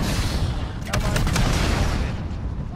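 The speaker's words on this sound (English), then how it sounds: "Oh, that's how you shoot the rockets." Rockets fired from a chopper gunner helicopter in the video game Modern Warfare, a rapid burst of several sharp launches over a dense, rumbling battle din, close and loud with no talk.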